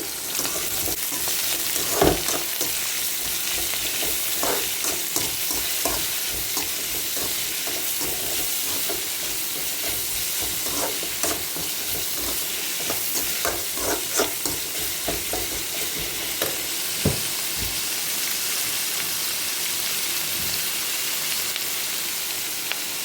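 Onions, curry leaves and sliced green chilies frying in hot oil for a quail egg roast, a steady close sizzle with scattered stirring clinks and scrapes throughout, no voices.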